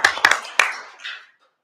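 Brief scattered hand claps from a few people at a township board of supervisors meeting, a handful of sharp claps fading out within about a second.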